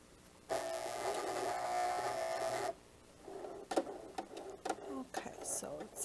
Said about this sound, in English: My nice loud sewing machine.